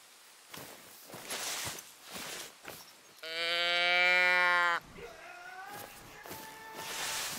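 A female roe deer bleat call, made with a bleat lure in a video game: one loud, sustained, strongly nasal bleat lasting over a second. Soft footsteps come before it, and fainter rising calls follow.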